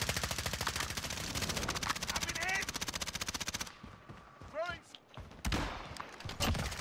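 Automatic gunfire in a video game rattles in a fast, steady stream for several seconds, then breaks off into scattered shots and short chirping effects, close and loud, with players talking over it.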